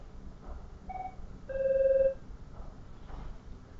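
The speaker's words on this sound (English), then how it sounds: "Phone going again." A telephone rings in a lecture room, giving short electronic tones with one longer, louder steady ring in the middle, heard alone over faint room noise.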